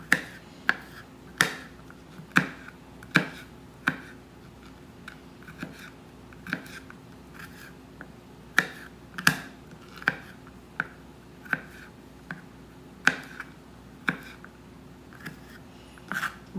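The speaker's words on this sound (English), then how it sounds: "You can smash it and then cut it up." Knife chopping smashed garlic cloves on a cutting board: sharp, evenly spaced taps, roughly one every half second or so, close and crisp over a quiet room.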